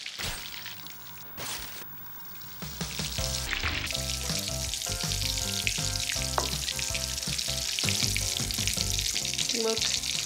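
Prawns frying in a hot pan, a loud continuous sizzle that swells after a few clattering knocks and stirring sounds, close and dense throughout.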